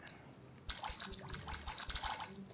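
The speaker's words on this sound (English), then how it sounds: "Water that here." Watering cabbages in the farming video game Staxel gives a quiet watering-can trickle that begins abruptly after a brief pause, then patters and splashes steadily.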